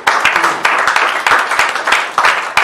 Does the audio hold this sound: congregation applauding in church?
yes